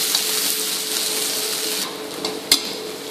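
Onions and green chillies sizzle in hot oil in a pan, a steady close frying crackle with a few sharp spoon or spatula clinks as they are stirred, no voices.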